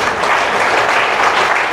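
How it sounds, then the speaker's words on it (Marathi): Steady, dense applause from an audience at an inter-school yoga competition gratitude ceremony, loud and continuous throughout. "त्यांच्याबद्दल एकदा टाळ्या वाजवून."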